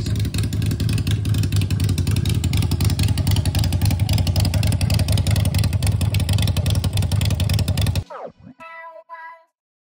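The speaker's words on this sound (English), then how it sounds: "That was the raffle bike, the Sportster Iron 883." Harley-Davidson Sportster Iron 883 motorcycle engine runs loud and steady with a throaty rumble for about eight seconds, then cuts off abruptly, leaving brief faint noise and voices behind.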